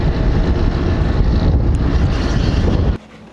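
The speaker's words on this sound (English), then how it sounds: "Yeah, this was the most brutal wind ever." Strong, brutal wind buffets the microphone outdoors on a building site, a loud continuous low roar that cuts off abruptly near the end.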